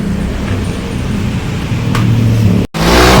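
A Yamaha Mio GT scooter engine idles steadily after repair of a stalling fault, a close, low rumbling drone with a slight rise in revs, then a brief cut and a louder burst.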